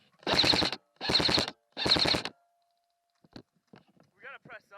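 Airsoft guns fire in three long sustained full-auto bursts during an outdoor scrimmage at a gas station position, close and loud, followed by brief pauses and a few short spoken words.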